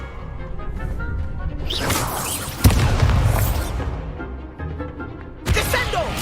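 The Descendo spell in Hogwarts Legacy slams down with heavy booming impacts and whooshes. Two sharp, loud crashes land over a rumbling, busy game soundscape.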